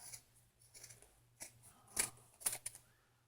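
Scissors snip through fabric along a stitch line while sewing a purse, several short crisp cuts in an irregular rhythm, close and fairly quiet, with no talking.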